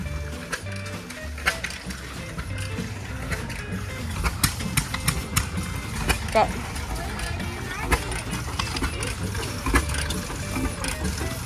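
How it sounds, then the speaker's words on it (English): Old engines at a county fair run with a busy, mechanical chugging and scattered popping bursts, a steady rumble throughout with crowd noise and speech in the background. "Got engines up here popping."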